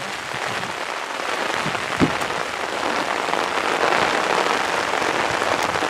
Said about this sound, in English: It is pouring down the rain